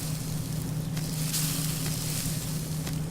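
Meat cooking over a campfire in the survival game Subsistence gives off a steady crackling sizzle with broad hiss, constant and moderately close, with a low hum running underneath and no talking.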